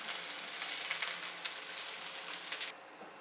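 Onions and bell peppers fry in oil in a pan, a steady bright sizzle with small crackles that cuts off abruptly near the end, close and fairly loud with no talk.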